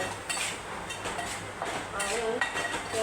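Food is sautéed and stirred in a pan, giving a soft sizzle with repeated scraping and light clinks from the utensil against the metal. The strokes come in uneven bursts at close range.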